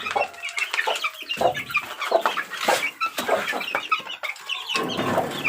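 Gamefowl chicks, baby stags, cheep and chirp nonstop in a close, busy chorus of many overlapping high calls, with no talking.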